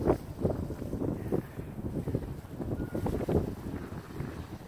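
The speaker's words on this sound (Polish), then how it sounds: "Bo wiatr za bardzo wieje." Wind gusts buffet the microphone outdoors at a fishing competition on Zawalna Street in Wrocław, a soft, steady rushing rumble with uneven pulses throughout.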